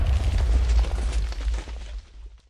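A TNT cannon in Minecraft fires with a loud, booming explosion that starts heavy and rumbling, then trails off into a fading crackle over a couple of seconds.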